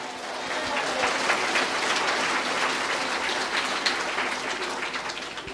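A church congregation applauds loudly and steadily throughout, a dense wash of many hands clapping at close range with a faint murmur of voices beneath.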